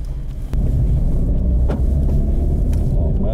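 A car on a defensive-driving course pulls away in first gear, its engine rumbling loudly and steadily up close from inside the cabin, with no voices heard.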